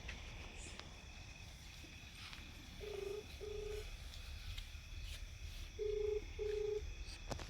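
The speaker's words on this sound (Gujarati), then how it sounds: "તો બાબરાને ફોન કરું" Four short keypad tones from a telephone being dialed sound in two closely spaced pairs, faint against a quiet background with insects chirping.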